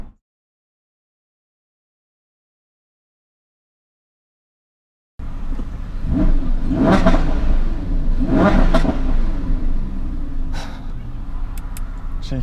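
Engine of a 2016 Lamborghini Huracan rising in a quick revving throttle blip, loud and close, building twice to sharp peaks after several seconds of silence, then settling into a steady rumble.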